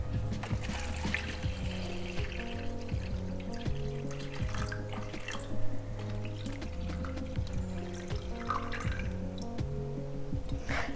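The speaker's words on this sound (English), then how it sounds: "Now take your big bowl, or in my case, my recyclable box, and fill it up with water." Water pours and splashes steadily into a recyclable box for the whole stretch, with music playing underneath.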